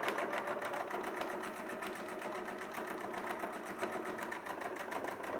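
Sewing machine running steadily for several seconds, stitching a quilt along a Westalee flying triangle ruler template, its needle chatter rapid and even at close range with no talking.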